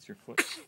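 A single sharp sneeze bursts out right after a child's brief spoken question, loud and close.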